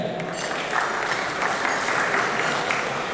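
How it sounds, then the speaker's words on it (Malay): Sustained audience applause at a university dialogue session with the pro-chancellor and vice-chancellor present, a steady, even roll of many hands clapping from start to finish, with no voices over it. "Berikan tepukan."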